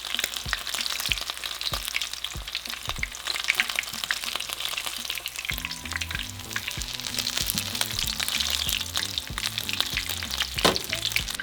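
Tacos dorados sizzle in oil over medium heat, a steady crackling fry running the whole time with occasional sharper pops, close and fairly loud, with a low rhythmic tone entering partway through.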